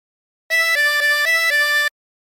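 Tremolo harmonica with 24 holes playing a short phrase of Turkey in the Straw: a bright, reedy sustained tone stepping through about five quick note changes in steady rhythm, close and alone.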